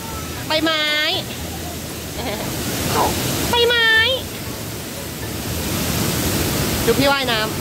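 Broad steady rushing of a waterfall fills the scene, loud and close, while chirpy high bird or insect calls break through in short bursts on top.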